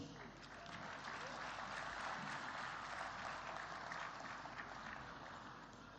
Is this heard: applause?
yes